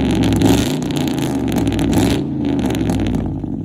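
A car engine revs hard and deep, rising and falling in pitch, with crackling pops from the exhaust between pulls; loud and close, no talking.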